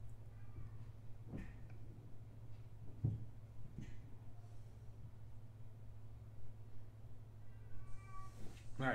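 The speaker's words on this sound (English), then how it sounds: "That's my cat upstairs." A house cat meows from upstairs, several distant hollering calls spread across the stretch, faint and muffled under a low steady hum.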